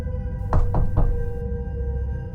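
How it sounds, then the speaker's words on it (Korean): Three hollow knocks on a front door downstairs in a quiet house at night, evenly spaced and fairly close, over a faint steady hum with no voices. "세 번째 노크 소리가 들렸을 때 나는 깨달았다."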